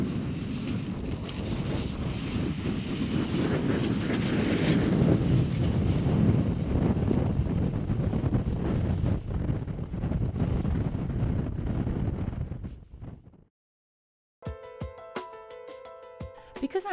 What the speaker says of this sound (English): But the wind can be fun.